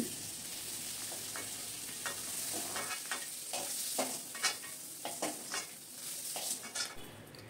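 Small shrimp fry in a wok with an even, continuous hiss of hot oil and a series of soft stirring and scraping knocks toward the end, with no voices.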